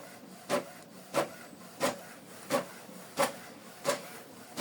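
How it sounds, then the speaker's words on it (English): Canon Pixma TS4150i inkjet printer printing a document, a faint, evenly spaced series of soft swishing passes of the print head, about seven in a row. "The document is printing."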